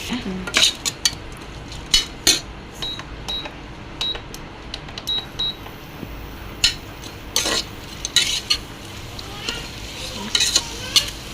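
Onions and ginger garlic paste are stirred in a sizzling pan for coconut milk rice, with a spatula scraping and clinking against the metal in irregular bursts over a soft, steady frying hiss and no talking.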